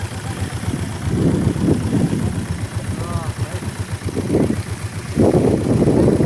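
A tractor engine idles in a village, a low steady chugging close by, with voices talking over it.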